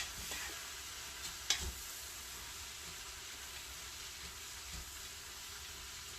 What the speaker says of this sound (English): So right now what you want to do, you want to start stirring your cabbage.